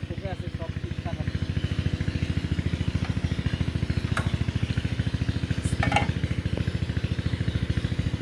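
A small village engine machine turns over and runs with a steady, rapid chugging putter that stays at a moderate level throughout, with a brief clatter near the end.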